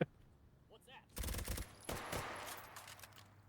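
An ACR rifle fires during a shooting competition: a quick burst of several shots, a brief pause, then another shorter burst that rings out afterward, with faint voices just before.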